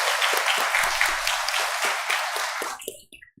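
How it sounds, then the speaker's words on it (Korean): At a church's 100th-anniversary Sunday service, a congregation applauds a singer with dense, steady clapping that fills the room, then fades to a few last claps. "우리 다시 한번 박수 한번 해주시겠습니까?"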